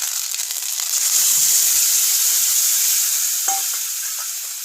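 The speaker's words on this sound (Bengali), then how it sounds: "আদা রসুন পেঁয়াজ বাটাটা দিয়ে দিলাম তেলের মধ্যে" A ginger, garlic and onion paste hits hot oil for a tilapia fish curry, producing a loud, hissing sizzle with soft stirring scrapes and a few crackles, slowly easing off, with no speech.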